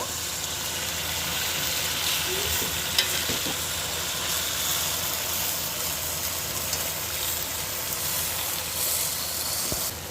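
Malabar spinach leaves frying in a pan with shrimp give a steady, close sizzle and hiss that runs unbroken throughout, with faint stirring clinks and no talk.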